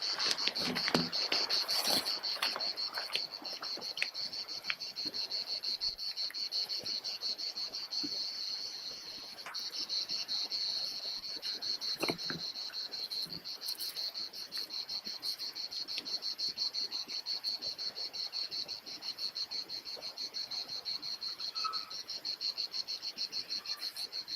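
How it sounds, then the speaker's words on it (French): A cicada chirps in a continuous high, buzzing drone that carries steadily from start to finish, with faint scattered outdoor ticks and rustles underneath. "Ta gueule, la cigale!"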